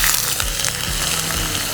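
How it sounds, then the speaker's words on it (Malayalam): Ginger frying in a pan for a home-style Onam ginger curry, with a loud, continuous close sizzle and occasional scraping stirs. "നമുക്കടുത്തായിട്ട് ഇഞ്ചി എടുത്ത് വറക്കാം."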